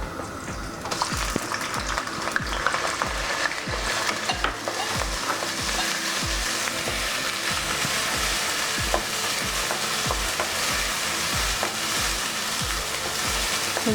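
Onion and green chilli pieces frying in hot oil for a garlic fish curry, a constant crackling sizzle punctuated by regular rhythmic scrapes and taps of a spatula against the pan, close and clear with no talking.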